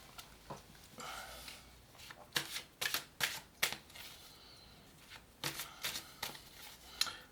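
Oracle cards are shuffled by hand in close, quiet bursts of riffling and flicking, with short pauses between the clusters of strokes.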